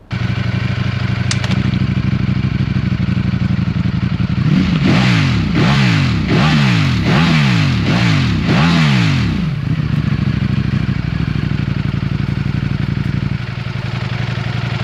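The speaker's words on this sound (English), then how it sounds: "it wakes up when you put it in first gear, and it actually has a deeper tone" A Ducati Streetfighter V4 motorcycle engine idles in first gear with a deep rumble, then is revved about six times in quick rhythmic bursts, each rise and fall close and loud, before settling back.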